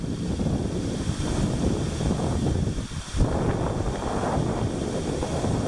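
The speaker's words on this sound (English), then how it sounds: "it is extremely windy out here." Strong wind roars and buffets the microphone continuously outdoors on a backpacking trip, a dense rushing noise with gusts and no voices.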